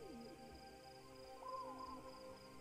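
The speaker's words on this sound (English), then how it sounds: "Sounds like an owl." An owl hoots in the video game Proteus, its calls set against soft, layered synth music and tones throughout the short stretch.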